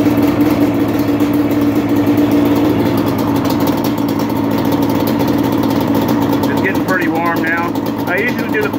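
A Redline Play engine with a slate port idles steadily through a heat cycle on its first start. The idle is loud, close and continuous, and a voice speaks briefly near the end.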